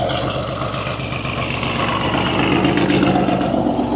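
881bhp Lamborghini Urus running hard on a dyno, a loud, steady, close engine roar with a throbbing pulse and no talking.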